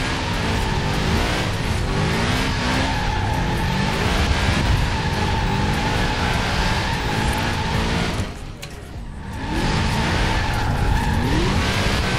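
Tires of a BMW X6 M squeal and skid continuously while drifting in Forza Horizon 4, the loud, sustained screech riding over engine drone, briefly dipping near the end before resuming at full strength.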